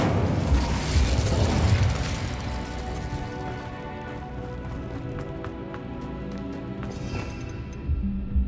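An Incendio fire spell in Hogwarts Legacy goes off with a rough, crackling whoosh of flame that dies into a low, steady roar, with small clicks and a brief rising flare near the end.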